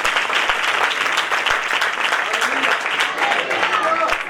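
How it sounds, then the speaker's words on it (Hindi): A church congregation at a Hindi-language service claps steadily and fairly loudly throughout, a dense, continuous applause with no pause. "परमेश्वर सेवकाई को आशीष के ताली बजा खुदा के नाम में।"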